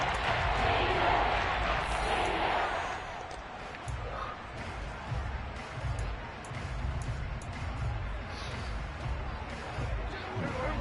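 Loud crowd roar inside an NFL football stadium on third and goal, a broad sustained din of cheering fans that swells early, then holds steady with scattered shouts.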